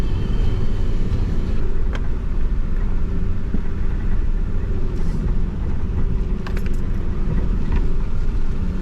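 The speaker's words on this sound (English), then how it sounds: "even though the car's going slow, it just starts to slide a bit" A Nissan Patrol 4WD crawls slowly along a rocky bush track toward a chromite mine, sliding a little on the loose surface, its engine a steady low rumble inside the cab with faint crunches and knocks from the ground.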